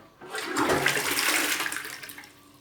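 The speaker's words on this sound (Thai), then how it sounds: "น้ำ ชักโคกไหลดีบ่" A toilet in a home flushes once: a rushing surge of water swells quickly, holds for a couple of seconds, then drains away and fades out, with no talking.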